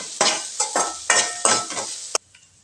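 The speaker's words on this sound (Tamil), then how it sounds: "லைட்டாக அந்த சூட்லேயே வதக்கி எடுத்துக்கலாங்க." Onion, half a coconut and sambar powder are stirred in a hot pan, with about six rhythmic scraping strokes and a soft sizzle, then a sharp clink of the spoon before sudden quiet.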